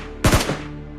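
A quick burst of two or three gunshots fired at a bot in PUBG Mobile, loud and close, followed by a short fading echo.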